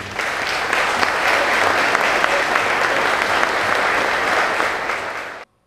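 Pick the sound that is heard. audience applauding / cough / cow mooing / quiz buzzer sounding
audience applauding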